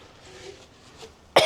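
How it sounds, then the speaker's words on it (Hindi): A single short cough brought on by black pepper while cooking sattu paratha, a sharp burst at the very end after near silence, close to the microphone. "ब्लैक पेपर था ना, तो इसीलिए खांसी आ रही है"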